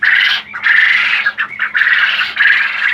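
Ten-day-old Texas quail chicks squawking while being weighed, a loud, continuous high-pitched cheeping chorus close by with a few brief dips between bursts.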